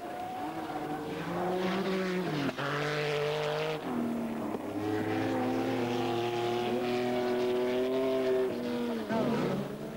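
An autocross race car, driven fast at Fangelbanen in 1984, roars loudly and continuously through its gears with rising and falling engine pitch as it accelerates and shifts, close to the listener.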